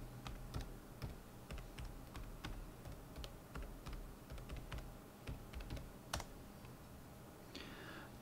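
Steady typing on a computer keyboard while a web address for a university online registration page is entered, a run of quick, fairly close key clicks with irregular rhythm and a few sharper taps, no talking.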